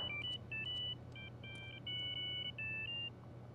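Telephone ringing in the video game Grand Theft Auto III Definitive Edition: a series of short electronic tone bursts in an irregular pattern over a low steady hum, moderately faint.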